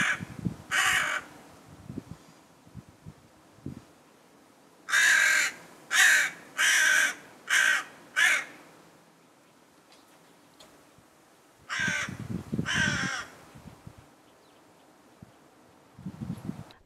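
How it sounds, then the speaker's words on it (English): Young wild crows calling while eating with their parents nearby, giving several loud cawing bursts in clusters separated by quiet pauses, with light rustling between calls. "the young birds still make the noises while eating when their parents are present"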